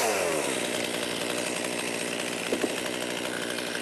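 A chainsaw cuts the back of a tree to fell it while clearing woods for pasture, its engine roaring loud and close in one continuous, steady drone.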